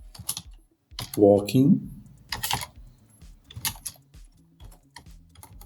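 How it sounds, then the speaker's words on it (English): Fingers type a prompt on a computer keyboard in short bursts of close, crisp key clicks, broken by pauses and a brief spoken word. "So here I'm going to type"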